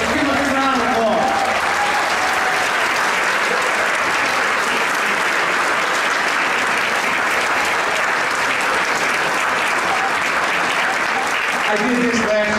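Audience at a scholarship program event giving standing students a big round of applause, steady and full clapping that stays loud for the whole stretch, with brief talk at the start and end.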